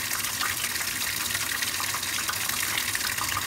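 Steady rushing gush of water as a Speed Queen washing machine fills on its rinse cycle, a continuous bright hiss with no pauses, fairly close and loud.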